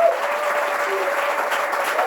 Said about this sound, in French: On peut l'applaudir bien fortement.